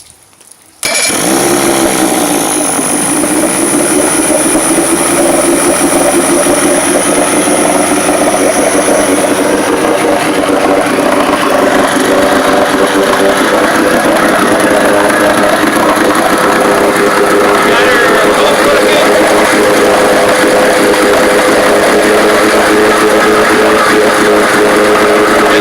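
A 1982 Evinrude 35 HP outboard motor catches on a cold start after a brief quiet moment, then runs loud and steady at close range with a rough, buzzing drone that holds for the rest of the time.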